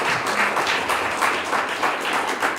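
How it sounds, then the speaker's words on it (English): A theater audience at a performance event gives a round of applause, a steady, moderately loud crowd clapping with rhythmic swells throughout, with no speech over it. "I want to give a big hand to Chuck Cabell"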